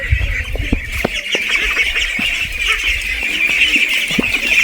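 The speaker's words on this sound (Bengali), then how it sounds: "হাঁসের বাচ্চা দেখো কি সুন্দর" Busy chorus of ducklings peeping and quacking in a village, many overlapping high calls close by over a constant background hum.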